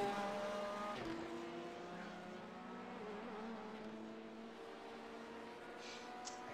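A race car engine in a racing video game drones at a steady pitch, with a brief shift around one second and gentle rises in revs, heard alone and fairly quiet.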